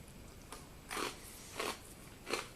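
Three sharp crunches of military ration corn nuggets being bitten and chewed, spaced about a second apart, close and fairly quiet against a faint background hiss.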